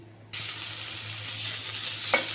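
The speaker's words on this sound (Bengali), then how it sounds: "আমি চিংড়ি মাছটা ভেজে নিচ্ছি।" A sudden steady sizzle starts as shrimp drop into hot oil in a pan, frying evenly and close by, with a brief clink near the end.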